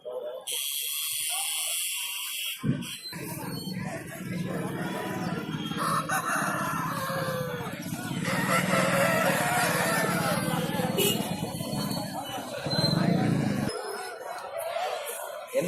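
A rooster crows at a busy outdoor market, its call loud and drawn out near the start, then continuing amid crowd noise and nearby conversation.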